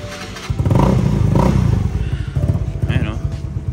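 A Yamaha Mio scooter engine cranking and starting after sitting unused for several days, settling into a close, loud, steady idle with clattery pulses.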